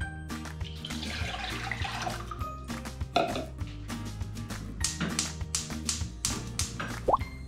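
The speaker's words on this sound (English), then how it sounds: "pour 2 cups of water and then boil it" Water poured into a pot to be boiled for miso soup with tofu: close splashing and trickling, then scattered drips, plops and small clinks of the pot.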